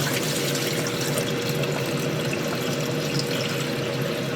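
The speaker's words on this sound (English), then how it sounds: "we'll drain this water" Water pours steadily out of a pot of rice in a constant rushing, splashing stream, close by and fairly loud.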